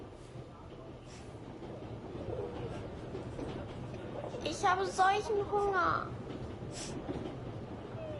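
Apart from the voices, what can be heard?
train running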